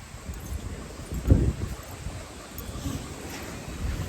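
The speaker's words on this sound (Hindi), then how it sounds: "बहुत हवा चल रही है" Strong wind blows outdoors, a low rushing noise with irregular buffeting against the microphone and one sharp gust thump near the middle.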